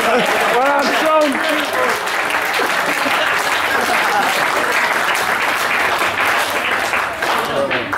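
A wedding reception crowd applauds after a best man's speech, with loud, sustained clapping filling the room along with cheers and voices mixed in.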